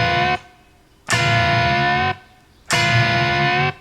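An electric guitar plays a distorted double-stop with a quarter-step bend on both strings, meant to mimic a car horn. Three sustained, horn-like blasts are separated by short gaps, loud and close with no talking.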